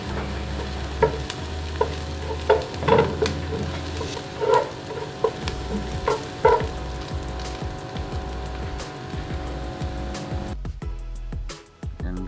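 Food for pancit palabok frying in a pan until golden brown, a steady close sizzle broken by the scrape and knock of a utensil stirring, with no one talking.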